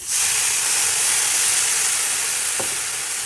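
Water poured into a pan of hot semolina roasted with sugar, producing a loud, steady hiss and sizzle that holds for the whole stretch, with a brief soft splash or stir near the end.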